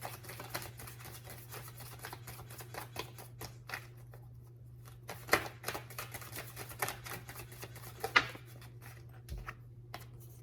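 Tarot cards being shuffled by hand: repeated soft riffling and flicking, close and fairly quiet, with a few sharper snaps over a steady low background hum and no speech.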